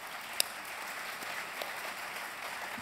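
A round-table conference audience applauding the panelists, soft, even clapping from a room of people sustained throughout, with one brief sharp click near the start.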